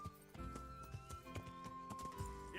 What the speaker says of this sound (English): horse, you can do it.